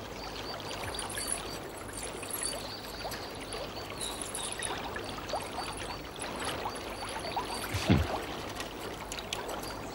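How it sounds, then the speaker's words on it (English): Water trickles and pours steadily into a container, a continuous gurgling wash with a brief splashing clunk near the end. "I came to fill some water."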